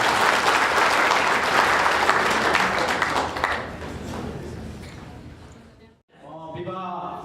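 A wedding congregation in a church claps together in sustained, dense applause that gradually fades, followed by a short pause before a voice begins speaking.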